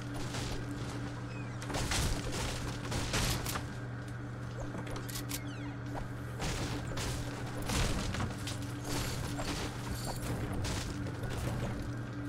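Bursts of gunfire crackle in repeated volleys as people shoot at a target, mid-distance, over a constant humming background.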